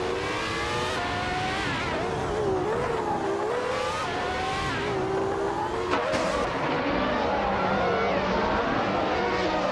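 Race cars including a McLaren MP4/10 and a Ferrari 412 T2 in a racing video game: high, whining engines rise and fall in pitch as they rev and shift, several cars overlapping, loud and continuous with no talk.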